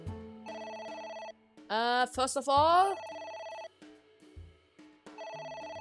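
A telephone rings repeatedly in the video game AI: The Somnium Files, with bursts of a steady electronic ring tone that pause for speech and music stings between them.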